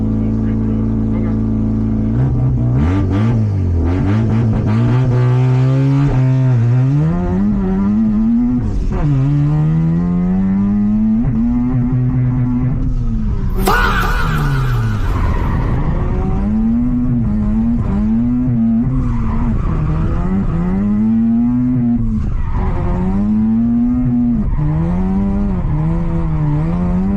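A car drifting on a course with a chicane revs its engine in repeated rising and falling sweeps, loud and close, with a brief harsh screech midway.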